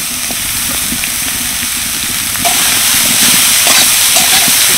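Grated cauliflower hits a hot pan with ginger and chopped green chillies, setting off a loud, continuous sizzling hiss that swells a little partway through, with no talking.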